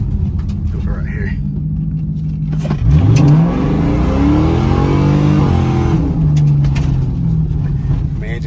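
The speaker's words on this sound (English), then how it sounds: "you can just punch it from a stop and it just spins these 315s like it ain't nothing" A Ford Mustang GT fitted with 4.56 gears launches hard from a stop, its 315 rear tires spinning as the engine revs loudly and climbs in pitch for several seconds before easing off, close and dominant with a voice briefly present.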